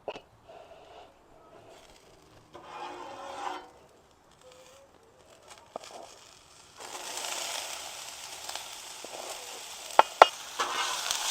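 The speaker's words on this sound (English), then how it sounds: "When you hear that sizzle, you know your grill's up to temperature." Onions frying in oil on a hot grill, a steady hiss of sizzling that swells louder in the second half, with a few sharp pops and clicks near the end.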